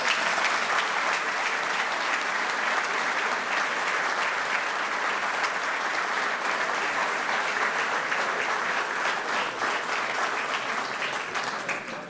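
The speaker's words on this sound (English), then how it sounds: "That applause from my wife was really appropriate" Sustained audience applause fills a hall at the Joe Lapchick Character Awards ceremony, dense steady clapping at close range with no talk over it, tapering slightly near the end.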